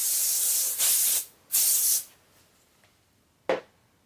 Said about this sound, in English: then we'll spray a little bit of spray on that